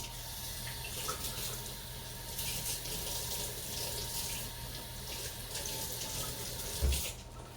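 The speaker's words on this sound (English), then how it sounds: "Let me rinse my spoon from the Hennessy." A kitchen tap runs steadily as a spoon is rinsed under the stream, a close, even rush of water with a soft clink near the end and no talk.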